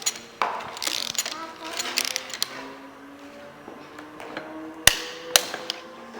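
A wrench tightening a fairing bolt to 45 Newton meters on a KTM 690 fairing kit: close metallic ratcheting clicks and clanks in uneven bursts, with a couple of sharp taps near the end.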